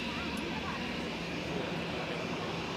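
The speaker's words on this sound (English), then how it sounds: "Singapore is pounding down the track with their 777" Singapore Airlines Boeing 777 on its takeoff roll at Zurich Airport: a steady, broad jet engine roar heard from a distance, continuous and even throughout.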